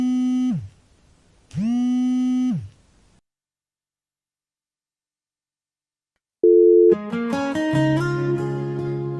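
A phone busy signal sounds after a call is cut, two long identical tones with a gap between them, then a pause of silence before a different chain of electronic tones follows, loud and clear.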